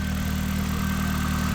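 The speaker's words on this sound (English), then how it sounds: "The engine shaking, it's a transmission thing, I think" A Matrix XRS car engine with a clutch or transmission fault runs with a steady, loud low-pitched drone and constant vibration, close up and without voices.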